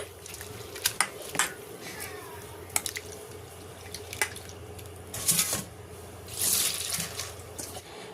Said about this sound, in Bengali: তো এই চিড়েটা আমি খুব ভালো করে ধুয়ে নিচ্ছি।